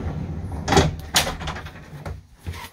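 A motorhome's interior door opens with a sharp latch click and a rattling swing, followed by a second knock and a soft thud, close by in a small cabin.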